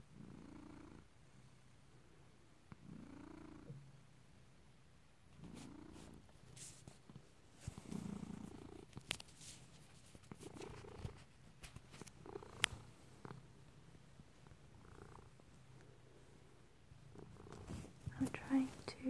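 A pet cat purring softly while cuddled at bedtime, a low steady rumble that comes and goes, faint and close, with a soft-spoken voice murmuring over it in places.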